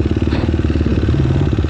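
An enduro motorcycle engine chugs with a fast, even pulse, loud and close. The rhythm stays steady with slight revving and no voices over it.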